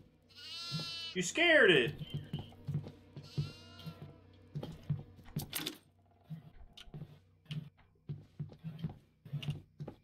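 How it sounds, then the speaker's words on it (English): Goat bleating in the horror video game Devour, a loud wavering bleat near the start with a second shorter cry, followed by clattering game sounds and footsteps while several people talk excitedly over it. "Oh, there's a goat right here"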